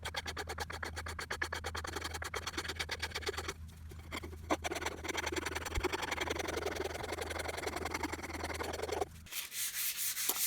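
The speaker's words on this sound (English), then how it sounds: "sanding up the 3 handles, taking them up to 220 grit sandpaper" Steady back-and-forth rasping of 220 grit sandpaper on three hatchet axe handles, close and continuous with a regular stroke rhythm, breaking off briefly near the end.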